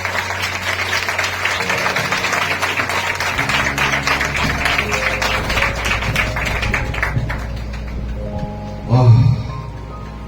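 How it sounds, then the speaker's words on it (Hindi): At a Sunday church service a congregation keeps up continuous rapid clapping with music playing underneath, then the applause thins out near the end with a louder thump. "जोर से ताली बंद नहीं होनी चाहिए"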